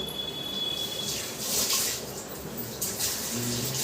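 Water is poured from a tap into a pot of soaked peas, a steady close splashing and gurgling rush that swells and fades over a few seconds.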